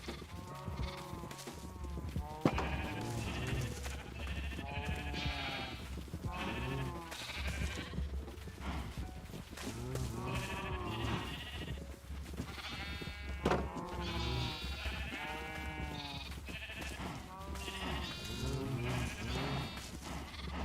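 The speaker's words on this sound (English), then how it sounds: "I'm gonna get crushed to death by sheep." A crowd of Minecraft sheep bleat over and over in the video game, overlapping wavering baas packed closely together at steady loudness above a low hum, with no talking.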